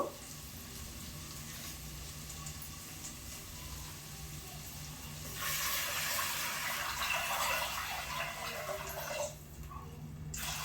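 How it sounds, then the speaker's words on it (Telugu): A soft background hiss gives way midway to a louder rushing pour of a glass of water into a pot of fried onions, which stops abruptly near the end. "ఒక గ్లాస్ వాటర్ పోసానండి నేను."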